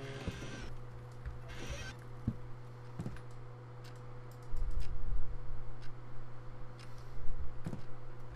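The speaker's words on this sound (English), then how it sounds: "I hear the clock from over here" A clock ticks in the video game Amnesia: The Interrogation, soft, evenly spaced clicks sounding faintly against a low ambient hum and scattered rustling.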